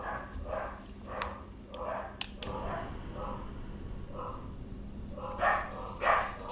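Dogs barking in a series of sharp, irregular woofs, some spaced and some in quick pairs, at moderate distance with a low background hum and no talking.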